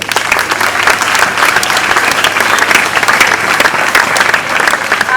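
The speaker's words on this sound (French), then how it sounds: "Applaudissez encore plus." A crowd at a school ceremony honouring students and mothers applauds steadily, dense loud clapping sustained throughout without pause.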